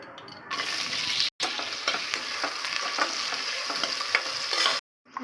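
Sliced onions sizzle steadily in hot oil with occasional stirring, close up, broken by a brief silent cut and a cut near the end.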